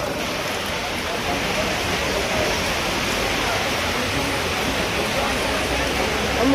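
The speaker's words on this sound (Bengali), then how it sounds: "বৃষ্টি শুরু হয়েছে" Rain pours steadily in a continuous broadband wash, with people talking now and then beneath the downpour.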